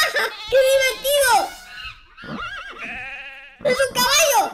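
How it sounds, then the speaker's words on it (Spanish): A horse neigh plays from the animal piano in the My Talking Tom Friends video game, several loud, close cartoonish whinnying bursts with short pauses between them. "¡Es un caballo!"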